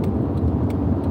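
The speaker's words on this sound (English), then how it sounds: "just like this gray car that just passed me" A gray car passes on a paved road with a close, steady low rumble of engine and tires. The roar stays even through the brief moment, with no talking.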